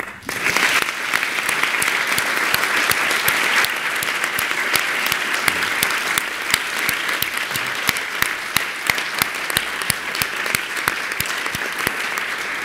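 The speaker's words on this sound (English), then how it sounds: "that was the loudest and longest round of applause of the day" Conference audience gives a long, loud round of applause at the close of a panel discussion, dense clapping sustained throughout at close range with no voices over it.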